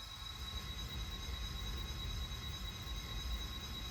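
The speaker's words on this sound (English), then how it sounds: "the westbound Brazos Valley Special departs for Granbury" A Santa Fe passenger train, the westbound Brazos Valley Special, rumbles steadily on departure, with a continuous low roll and thin high wheel squeal running throughout.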